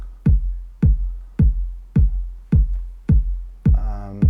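A punchy electronic kick drum layered over a very low sine wave hits seven times at an even tempo, each hit a sharp attack with a deep booming tail. The final hit carries an extra tonal layer.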